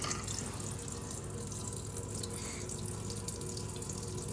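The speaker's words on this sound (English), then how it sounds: "now we got to run this steady stream of water." Steady stream of water running from a reverse osmosis filter tap, a continuous broadband hiss and splash that stays even from start to finish, close and fairly loud, with no voices.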